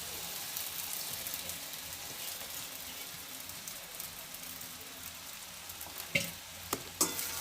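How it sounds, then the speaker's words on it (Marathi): Sabudana and chili paste sizzle and crackle steadily in a hot pan, a constant close frying hiss, with a few sharp utensil clinks against the pan near the end. "याच्यामध्ये मिरची पेस्ट टाकायचा, छान परतून घ्यायचं।"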